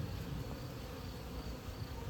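Honeybees on hive frames give off a quiet, steady low buzz that keeps up evenly from start to finish, with no talking.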